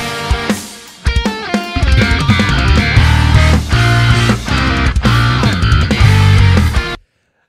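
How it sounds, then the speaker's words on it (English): A slap bass fill played with double thumbing: loud, close, percussive bass notes snap out in rapid busy runs with bright popping attacks over a full band mix, then stop abruptly. "So the techniques I'm using there obviously are slap bass and double thumbing."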